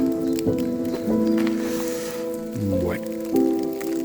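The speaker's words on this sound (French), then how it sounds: "la pluie s'est un petit peu calmée" Rain patters steadily on a hiker along the Camino de Santiago between Varaire and Lalbenque, close and continuous, while people briefly talk and a tonal hum runs underneath.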